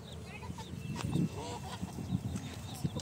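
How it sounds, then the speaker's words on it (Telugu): Chickens roaming loose around a poultry farm kept for laying and hatching eggs, with several clucks and squawks close by, some louder calls standing out over a steady murmur of birds. "కోళ్ళన్నీ ఫామ్ మొత్తం తిరుగుతూ ఉన్నాయి"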